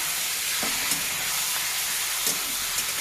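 Mutton fries in a pan for a spiced curry as it is stirred. A dense, steady hiss of sizzling runs throughout, with a few soft scrapes of the spatula and no talking.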